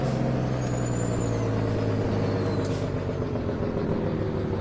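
A big truck engine in the video game Farming Simulator 17 idles with a low steady rumble, joined by a faint hiss of air brakes and a soft high whistle.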